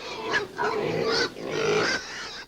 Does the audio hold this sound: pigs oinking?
yes